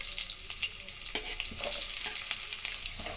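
Chopped onions hit hot oil with cumin, giving a steady close sizzle with scattered crackles and a few stirring scrapes throughout, no voices.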